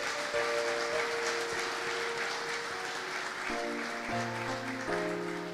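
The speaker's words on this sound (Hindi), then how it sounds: "जोरदार तालियां इस खुदा के लिए" A church congregation at a Christmas service claps steadily in a broad wash of applause, with sustained keyboard or organ tones ringing underneath and shifting pitch midway.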